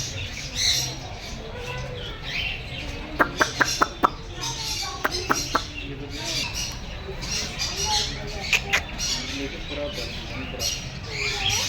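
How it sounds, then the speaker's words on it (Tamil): Chickens cluck and squawk in a children's park, with a quick burst of sharp calls in the middle and quieter clucks scattered before and after, over outdoor background noise and faint voices. "இது கோழி"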